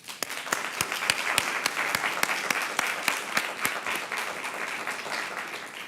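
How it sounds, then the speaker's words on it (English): Audience applause fills a school governing board meeting, a steady burst of many hands clapping with crisp individual claps standing out, sustained for several seconds before tapering slightly. "join me in a round of applause for our governing board"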